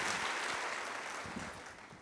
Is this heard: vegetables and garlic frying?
no